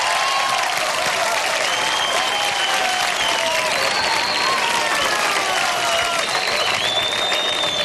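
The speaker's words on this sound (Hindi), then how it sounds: "जोरदार तालियां ACP सर के लिए।" Sustained audience applause with scattered cheers fills the hall at a televised CID Veerta awards show honouring ACP sir, loud and steady throughout with crowd noise mixed in.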